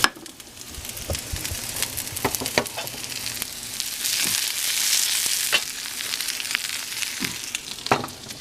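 Chopped onion added to browning potatoes and Spam in a frying pan sizzles loudly and continuously up close, with periodic scrapes and clacks of a spatula stirring through it.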